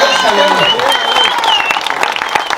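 Audience applause and cheering at an anniversary dinner, loud close clapping mixed with shouting voices and some talk.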